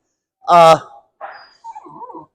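A dog eager for treats gives one sharp, close bark, then a couple of softer whimpering yips and whines in quick succession against silence.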